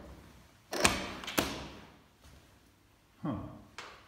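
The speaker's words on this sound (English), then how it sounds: "Let's try this door here." A door being tried in a video game gives a few sharp, close clunks and thuds separated by short quiet gaps, with no talking.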